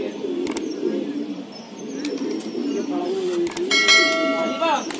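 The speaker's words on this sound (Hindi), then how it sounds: "ये काला हरा रंग लगा हुआ अनारा का कबूतर है।" A black-and-green pigeon on a rooftop gives low, throaty coos that run through the moment, close by, with a brief brighter ringing tone near the end.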